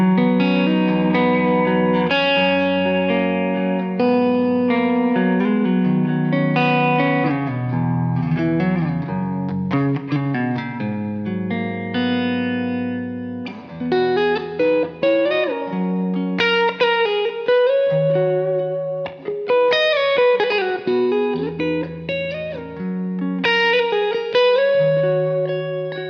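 A PRS McCarty 594 electric guitar on the neck humbucker, played through an AC30 amp preset with slight drive and reverb, ringing chords and melodic lines, sustained notes and dynamic picking, no voices.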